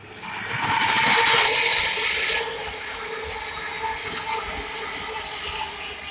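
A Thameslink Class 700 train speeds past nearby at Welham Green, a rising whoosh and hiss lasting about two seconds before fading into a low steady rumble.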